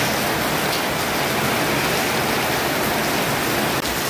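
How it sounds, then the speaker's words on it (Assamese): Steady heavy rain falling during a flood in Nalbari town, Assam, a dense unbroken hiss of downpour heard close and loud without voices. "ৰাতিপুৱাৰ পৰা বৰষুণ আৰম্ভ হৈছে এনেকৈ"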